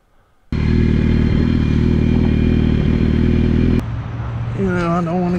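Engines at a dirt track drag race burst in with a loud, close roar and hold for about three seconds, then drop to a lower, steadier rumble.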